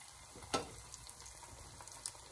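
Luncheon loaf fries quietly in a pan for breakfast, a soft steady sizzle with a sharp clack early on and a few light ticks later, close and low in level, no one speaking.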